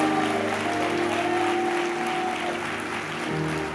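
A church congregation applauds, giving steady, dense clapping throughout, mixed with lingering music tones and a sustained hum beneath.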